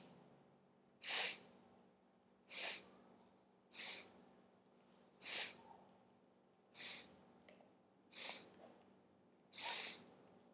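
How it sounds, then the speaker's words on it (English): Sharp nasal sniffing inhalations of yoga breathwork, eight short bursts spaced about every second and a half against a quiet background, close and clear with no talk. "inhaling in 8 equal sniffs"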